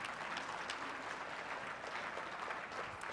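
A church congregation claps for the Lord at the close of a prayer during a sermon, a steady wash of dense applause filling the room at an even level for a few seconds, with no voices over it.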